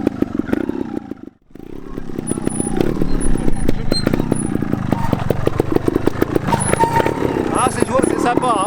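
A Vertigo Nitro trial motorcycle engine runs steadily close by with a clattering, throbbing tone, briefly dropping out before resuming, under someone talking.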